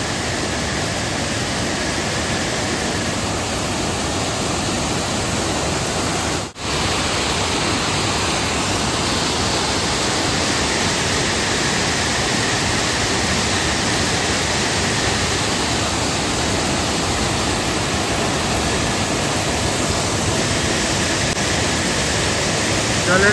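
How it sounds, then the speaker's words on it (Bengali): Borhill waterfall roars as a dense, continuous broadband rush of falling water, loud and steady throughout with one brief dip, no voices audible. "জলের কি আওয়াজ দেখতে পাচ্ছ, এই বড়হিল ওয়াটারফল।"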